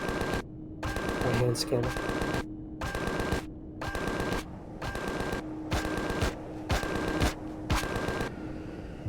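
Rapid automatic weapon fire in the sci-fi survival game Empyrion: Galactic Survival, repeated bursts roughly a second long separated by brief gaps, loud and close, with a voice speaking briefly between them.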